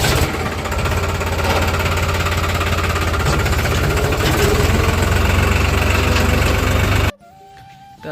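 A tractor engine running near a rice harvest field with a harvester at work, a loud steady low rumble with rapid knocking pulses that continues for about seven seconds and then cuts off abruptly, leaving quiet background.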